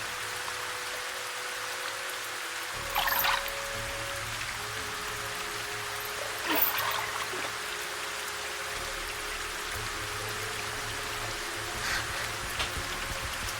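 Rain falls steadily in an anime episode of a Squid Game–style survival series, a constant hiss with a few louder spatters, alone with no speech.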